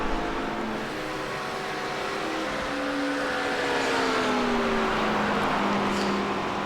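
Race cars circle the track at Laguna Seca Raceway in a multiclass race, one of them a damaged Porsche, their engines holding a steady loud drone with rising and falling tones as they run close in the draft.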